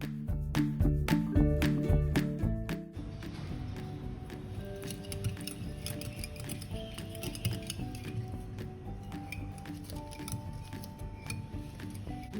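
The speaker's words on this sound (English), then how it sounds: "Whisk the curd." Curd being whisked for a honey jam cake batter, a fast rhythmic clatter of a whisk against a bowl, loud at first and then lighter steady clinking with tonal ringing and no talk.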